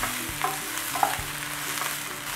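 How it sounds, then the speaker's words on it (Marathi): Cluster beans sauté in a pan with salt and turmeric, a steady close sizzle broken by brief scraping stirs, with no voices. "आता हे परत एकदा परतून घेऊया"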